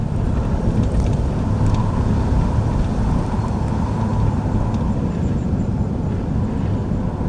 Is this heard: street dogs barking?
no